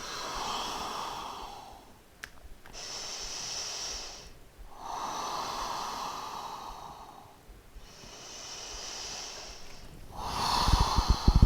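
Slow, deep breaths during a yoga wide-leg forward fold: long, airy inhales and exhales in a calm rhythm, heard close and alone.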